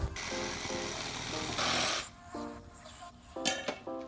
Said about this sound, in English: I can take my sawzall, start cutting it out.